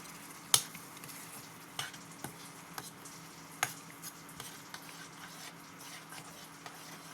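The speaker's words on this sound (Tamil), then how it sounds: "இப்போ அரைச்சி வச்ச பலாப்பழத்தை எடுத்து இதில் போட்டுக்கலாம். போட்டு நல்லா மிக்ஸ் பண்ணிக்கலாம்." Ground jackfruit pulp is stirred into hot sugar syrup for halwa. The pan gives a faint, low bubbling sizzle, with a scattering of soft spoon taps and knocks against the pan, and no voices.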